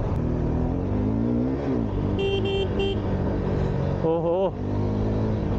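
A 125cc motorbike runs at full power on a highway, engine and wind roaring steadily close by, while several vehicle horns toot briefly in the distance and a rider makes a short exclamation.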